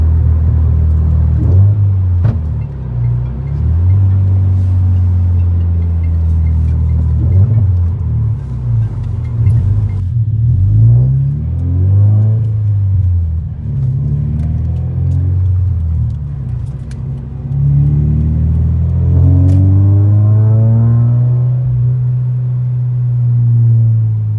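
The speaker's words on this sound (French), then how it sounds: "dès que je mets un coup d'accélération, normalement elle pète." A Toyota GT86 engine revs in repeated throttle blips, loud and close, rising and falling with a deep rumbling idle between pulls and no talking.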